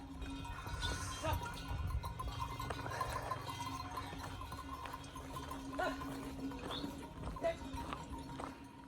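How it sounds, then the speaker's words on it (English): Hooves clip-clop on a mountain trail in Nepal while clanking bells jingle from several pack horses passing by, with faint voices in the background. "Got a bit of a horse train up ahead"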